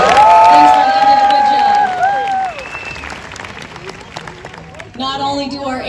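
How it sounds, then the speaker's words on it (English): A theme-park crowd at the Animal Actors show at Universal Studios Hollywood cheers and claps for the actor, with bright whoops and shouts at first, then a steady bed of applause before the voices surge again. "How about a big round of applause for our actor"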